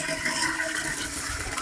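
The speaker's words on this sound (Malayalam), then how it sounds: "വെള്ളം ഒഴിച്ചു കൊടുക്കാം" Water being poured into a cooking pot while preparing choora (tuna) fish curry with kudampuli, a steady rushing splash filling the whole short stretch, close and continuous with no talk.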